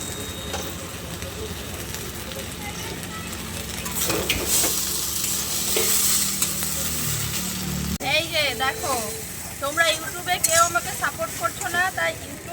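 Chowmein stir-fried in a kadai at a street food stall, with a steady sizzle and stirring scrapes throughout and a voice speaking over the second half.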